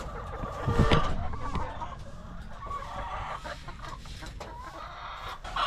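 Chickens cluck intermittently nearby in their coop over a busy, muffled background of scraping and shuffling as the coop is cleaned.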